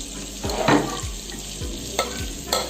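Onion is stirred into oil in a pot for ugba and vegetable sauce, a soft sizzle broken by four or five rhythmic scraping spoon strokes, close up and without talk.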